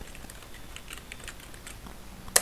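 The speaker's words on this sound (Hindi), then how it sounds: "हम यहाँ पर कुछ टाइप करके देखते हैं" Keystrokes on a computer keyboard while text is entered in a document, a quiet steady stream of light clicks with one sharper tap near the end, no voices.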